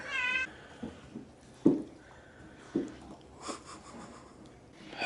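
Savannah cat meowing indoors, a few short separate calls spaced over several seconds, fairly close but soft, with quiet sniffing and rustling between them and no speech.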